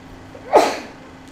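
A single short, sharp human sneeze bursts out once at close range in an indoor craft space where resin painting is underway, loud against a quiet background.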